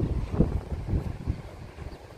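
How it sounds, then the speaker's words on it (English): Wind gusts and rain buffet a waterproof drone flying at about 100 meters, heard as a steady, rumbling low roar with irregular pulsing surges, loud and close with no other sounds. "with wind gusts, we're flying in the rain"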